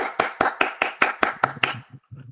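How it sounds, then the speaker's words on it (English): About eight or nine sharp, evenly spaced hand claps ring out close by in a steady rhythm, likely from one or two people on a talk show set. They stop abruptly, followed by a brief low murmur. "can we give Becky a round of applause"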